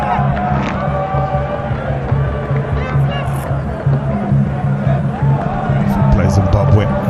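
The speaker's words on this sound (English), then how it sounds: "fantastic crowd in again today" Large crowd at a cricket match in Zimbabwe, a steady murmur of many voices with scattered cheers and whoops, close and continuous throughout.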